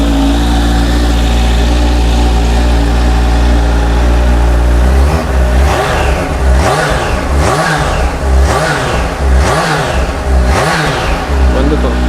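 A Kawasaki Z H2 supercharged motorcycle at a launch event at GT Superbikes in Llantrisant rumbles at idle, then its engine is blipped in a run of rhythmic revs, loud and near.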